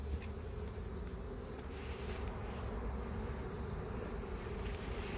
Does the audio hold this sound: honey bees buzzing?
yes